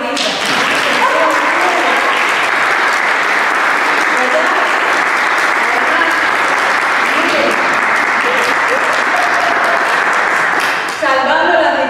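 A theater audience bursts into loud, sustained applause for an actress and singer, dense continuous clapping that carries evenly for about eleven seconds before cutting off abruptly near the end.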